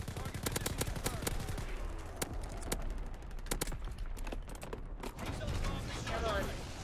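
Division artillery and gunfire in a Call of Duty multiplayer match, a rapid series of sharp cracking shots in bursts and scattered single reports, fairly distant and moderately quiet, under occasional game voice callouts.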